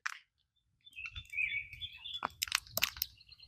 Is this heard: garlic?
no